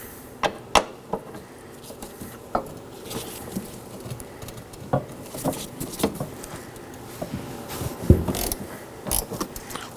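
Ratchet working a 10mm hood hinge bolt loose on a 2013-2019 Nissan Sentra, irregular clicking and ratcheting bursts with metallic knocks, near and moderately loud.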